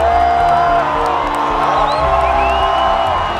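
Brazilian fans at the Oi Rio Pro surf contest in Saquarema cheer and whoop loudly, a dense, continuous roar of many voices with scattered shouts and whistles rising above it.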